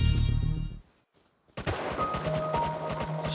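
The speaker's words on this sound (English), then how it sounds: "Oh, I'm getting shot at." Gunfire in the survival video game Rust: a burst of rapid shots, a short silent gap, then a fresh flurry of repeated firing, fairly loud and with no talking.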